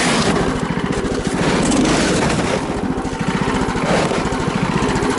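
Small engine of a motorized sled tractor (motoblock pusher) running on crusted snow in a forest, a loud close buzzing drone that rises and falls slightly with throttle, continuous and alone.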